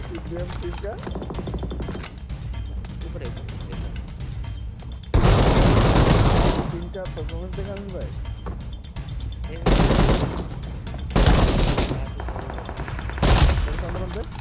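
Gunfire in the mobile battle royale game PUBG Mobile: repeated loud bursts of automatic fire and booming shots, coming in several separate volleys over a steady game background, with talk between them.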